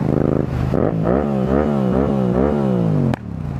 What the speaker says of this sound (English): you can't beat that good old 2-cylinder sound